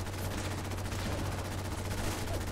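Enemy gunfire in a video game, from Assaultrons and sentry bots, comes as a dense, continuous rattle of rapid shots, steady and moderately loud throughout.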